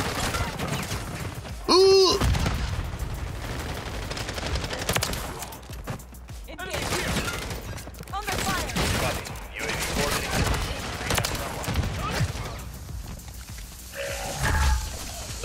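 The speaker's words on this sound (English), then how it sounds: "Yeah, shotguns are fun." A Lockwood 680 shotgun firing in a video game, a series of heavy blasts spread across busy gameplay noise, with someone talking over parts of it.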